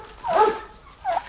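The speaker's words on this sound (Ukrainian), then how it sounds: "Собака наша." A dog gives two short barks or yips in a village yard in Ukraine, moderately close, with a brief pause between them.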